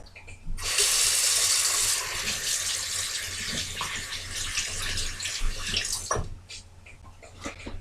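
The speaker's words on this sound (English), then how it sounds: "First, I wash my hands of any oils or things that could be on it beforehand" A hot water tap runs while hands are washed under it: a loud, steady hiss of streaming water for several seconds, followed by quieter splashing and dripping as the flow is broken up, with no voices.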